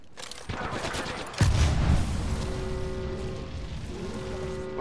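Gunfire from the video game Apex Legends: rapid shots crackling close and loud, a heavy burst hitting early, then steady game noise with tonal effects continuing.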